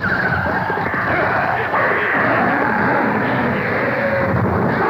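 Dirt bikes in the film Infra-Man make a loud, continuous engine roar mixed with gritty skidding noise, close and dense for the whole stretch, with no talk.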